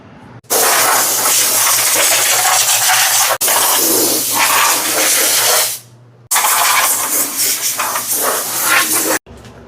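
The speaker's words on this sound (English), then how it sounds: "I'm going to spray this thing off with an air hose." Compressed air blasts from a hose onto a car subframe in three long, loud hissing bursts separated by brief pauses, close up.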